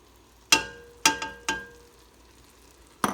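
Chili powder and garlic stirred into turkey chili in a pot, a few sharp spoon scrapes and clanks against the pan at irregular intervals over a faint sizzle, close by, no talking.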